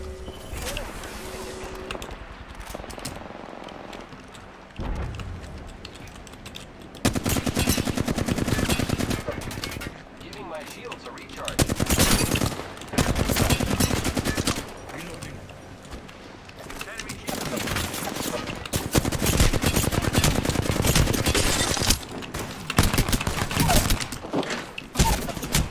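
Bursts of automatic gunfire in the battle game Apex Legends, loud rapid volleys alternating with quieter gaps, with a player talking over parts of the action.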